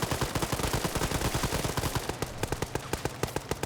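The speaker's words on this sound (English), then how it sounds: "I love how you have the 249 just suppressing back" Sustained automatic fire from an M249 machine gun in a video game PvP match, a dense rapid stream of shots that thins into distinct spaced bursts toward the end, loud and close with no talk.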